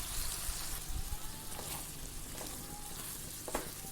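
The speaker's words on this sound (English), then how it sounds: "now I'm adding in the chopped cauliflower, and I'm going to cook it in this for some time." Chopped cauliflower frying with prawns in a pan, a steady broadband sizzle with faint crackles and occasional stirring clinks, heard close with no talk.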